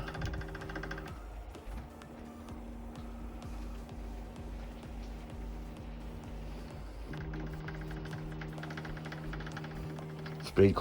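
A homemade MPCNC machine in a workshop moves its axes under button control, giving a steady motor whine with sustained tones that shift pitch as it travels, over low hum.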